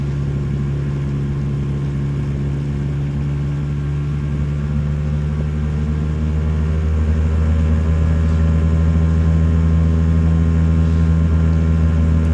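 A Lambretta GP125 scooter engine droning loud and steady after a downshift on a ride from Saltburn to Whitby, its pitch sinking as it loses speed, with wind rush over the whole run and no talking.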